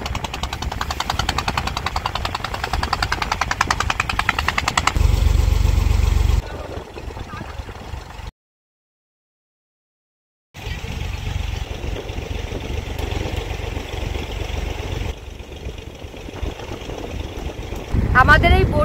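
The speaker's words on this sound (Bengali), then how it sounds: "প্রচুর পরপর প্রচুর কিন্তু জেলেদের বোট যাচ্ছে এখান থেকে" Motorized fishing boats pass at sea off a beach during a boat ride, a steady engine drone with water and wind noise, broken by a brief silent gap, with people talking over it.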